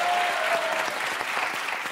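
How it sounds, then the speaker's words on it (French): Studio audience applauding on a French television comedy show, a dense burst of clapping from a crowd, loud at first and tapering slightly over a couple of seconds. "ça, on peut l'applaudir, mesdames et messieurs"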